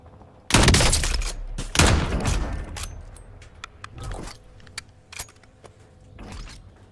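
Game gunfire in a battle-royale match: several sharp shots, some close and loud and others fainter and more distant, arriving in irregular bursts with a quiet rattle of gear in between.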